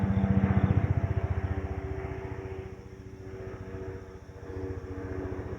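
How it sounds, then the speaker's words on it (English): Helicopters passing overhead in rural Georgia, a steady low rotor chop with a pulsing beat that swells and fades slightly as they move, heard alone at a moderate distance. "Oh, it comes more helicopters."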